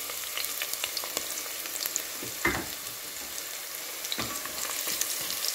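Onion dropped into a pan of browning garlic fries with a steady, close sizzle; a couple of brief clattering stirs punctuate the crackle, and no one speaks.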